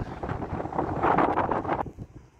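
Strong, cold wind in foggy Abha buffets the microphone in a steady, rough roar that swells in the middle and then drops off abruptly near the end.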